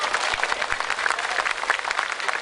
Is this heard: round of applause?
yes